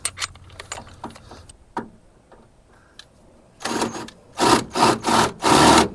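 A 1/2-inch Red Helix split point bit drills into rusty metal on a 1999 Mazda B2500, with scattered clicks and scrapes at first, then several loud grinding bursts close by.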